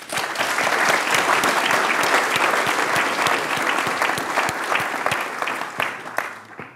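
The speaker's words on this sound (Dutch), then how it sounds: "Applaus." Indoor audience at a gathering on the new Dutch Code of Criminal Procedure at the Supreme Court breaks into sustained applause. The clapping is dense and fairly close, holds steady for several seconds, then tapers off near the end.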